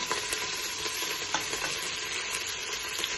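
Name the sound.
stirring prawn biryani masala with mint, coriander, onions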